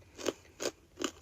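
Three crisp, crackling bites into crunchy roast pork lechon belly, evenly spaced and close up, each a short crunch with no talking.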